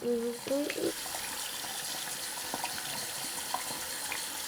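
Water running from a tap into a sink, a steady hiss that continues throughout the clip, with a brief voice-like sound early on.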